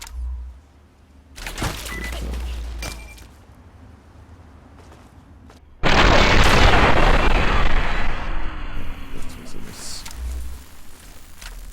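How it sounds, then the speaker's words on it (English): Pulse weapon fire in heavily modded Fallout 3, sharp bursts of gunfire followed by a loud sustained crackling blast, with a voice talking over part of it. "that was a pulse weapon that can penetrate through my armor"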